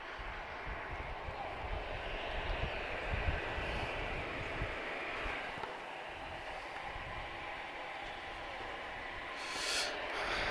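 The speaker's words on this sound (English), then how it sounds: "let's listen to the sound. This is a CFM 56 engine." Steady, broad roar of an Airbus A320's CFM56 jet engine at Madeira Airport, continuous and fairly loud, with a faint higher whine and a brief swell near the end.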